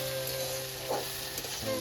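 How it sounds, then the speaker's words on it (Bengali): Okra frying in a pan at home, a soft steady sizzle with faint stirring scrapes, heard close and alone. "মা ভেন্ডিটা ভাজলো"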